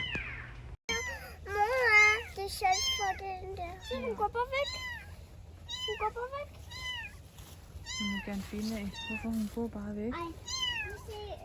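A small kitten meows repeatedly, loud and close, in a steady run of high, rising cries, with soft speech and babbling from people nearby underneath.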